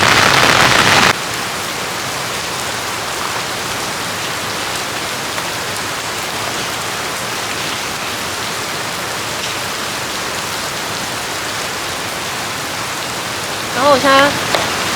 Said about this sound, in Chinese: 但是下雨，然後天氣又冷